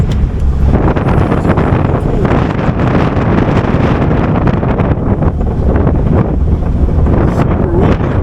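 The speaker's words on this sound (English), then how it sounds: "Super windy." Strong mountain wind buffets the microphone in a steady, roaring rush on a remote desert road in the range near Cerro Gordo, loud and continuous with no talk.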